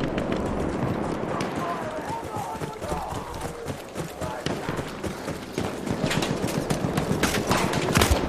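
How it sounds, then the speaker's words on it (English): A horse gallops across a Battlefield 1 battlefield, its hoofbeats a steady running patter beneath continuous combat noise and scattered gunfire, with people talking over it. "there comes a horsey"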